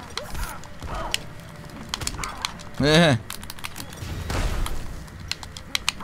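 Video game fireworks crackle and pop in sharp, scattered bursts, with a rising whistle midway and a deeper rumble after, while a person speaks briefly.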